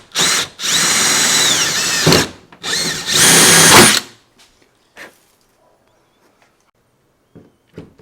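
A power drill whirs loudly in two long bursts with a short pause between as it drills into a boat, then stops, leaving a few faint knocks and clatters.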